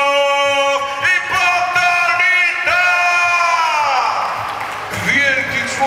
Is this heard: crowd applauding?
yes